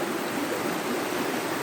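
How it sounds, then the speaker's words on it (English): Steady, even wash of rain falling and dripping from trees outdoors, a continuous close hiss with no distinct drops standing out. "there is still rain falling down"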